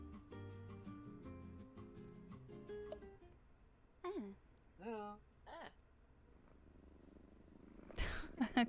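A house cat purrs with a soft, low, steady rumble close by, while vocal sounds and voices rise over it intermittently.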